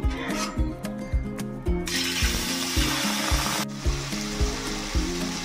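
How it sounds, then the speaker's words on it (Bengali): Lote fish (Bombay duck) sizzles steadily in a wok of oil, a continuous bright hiss with a rhythmic music bed running underneath throughout. "লোটে মাছটা এবার কড়াইতে দিয়ে দেবো।"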